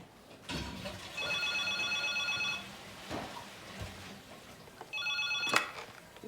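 A telephone rings in an office: two bursts of electronic trilling, the first longer and the second shorter, with soft thumps and movement around them.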